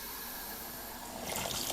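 Tap water rushes into a Kodak automatic dish syphon, a steady watery hiss that swells into a louder, brighter blast near the end, with no voices.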